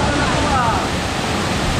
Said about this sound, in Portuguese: E olha só a queda d'água,